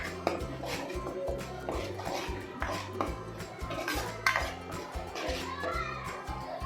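Onion with ginger garlic paste being fried and stirred in a pot, heard as steady metallic clatter and scraping of a utensil against cookware, with repeated clinks throughout.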